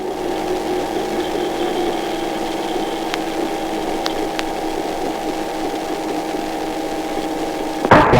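An aircraft engine holds a run-up at 70 to 75% RPM while holding short of a runway, a steady droning hum with a few faint clicks and a brief bump at the end.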